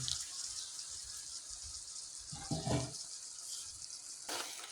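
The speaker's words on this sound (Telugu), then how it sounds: "ఇంకా పోస్తాను చూడండి ఇట్లా పోయాలి చింతపండు పులుసు చేపల కూరలో స్పెషల్" Tamarind water is poured into a fish curry: a soft, continuous splashing of liquid, faint and steady, with a brief fuller gurgle partway through.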